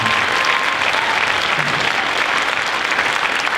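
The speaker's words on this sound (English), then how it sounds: "Can we give them one more round of applause" Sustained audience applause fills a school band winter concert hall, a dense, steady wash of many hands clapping at an even level throughout, with no voices standing out.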